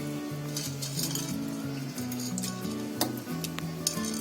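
Whole black pepper, cloves, cardamom and bay leaf go into a pot for Bombay biryani: repeated metallic clinks and stirring scrapes over a soft sizzle, close up, with a steady tonal backing underneath.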